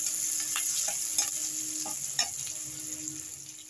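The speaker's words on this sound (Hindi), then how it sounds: "अब देखिए प्याज, 2 प्याज डाल दिए। इसको लाल होने तक भूनेंगे।" Onions frying in a pan for Bihari-style egg curry: a soft continuous sizzle with a few scattered stirring clicks, close and moderately quiet, no speech.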